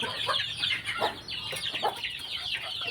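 Backyard chickens about three months old cluck repeatedly at moderate distance, short scattered calls over a soft outdoor hiss, with no talking.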